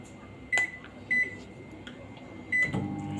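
A microwave oven roasting a plate of chillies gives a few short electronic button beeps, then its low running hum starts near the end. No one speaks.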